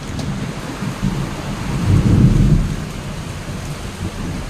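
Heavy thunderstorm with steady, loud rain close by outdoors, a low rumble of thunder swelling and fading midway through beneath the constant downpour.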